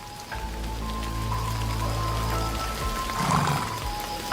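Rain falls steadily across open African grasslands as a constant broadband hiss, with a brief rise toward the end.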